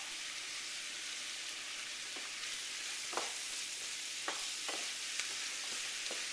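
Sliced squash and onions fry in a pan with a constant soft hiss and scattered faint pops and stirring clicks, heard close and fairly quiet, with no talking.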